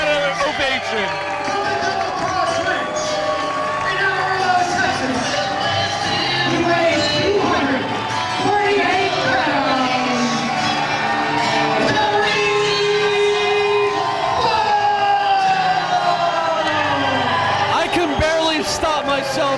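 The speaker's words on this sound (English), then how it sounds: "Listen to that ovation." A packed crowd at a 3PW wrestling anniversary show gives Terry Funk a sustained ovation, with loud cheering, shouts and whoops rolling on continuously and filling the hall.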